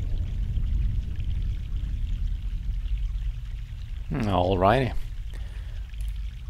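Water flows softly and steadily near an old tree in The Longest Journey, a faint trickle running under the game's background ambience while someone speaks briefly partway through.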